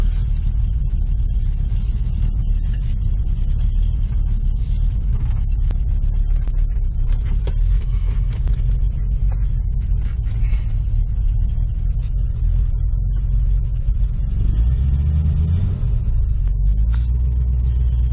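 A 1969 Ford Mustang engine with a suspected fuel-delivery fault rumbles continuously while driving, with a loud, steady low drone and a brief swell near the end.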